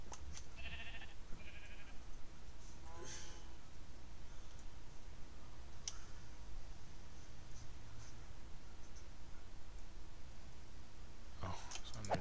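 Sheep in Minecraft bleat in short, faint bursts, a few scattered calls spaced across the stretch amid light clicks and quiet game background.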